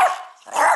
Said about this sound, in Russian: Смотрите, как он гавкает.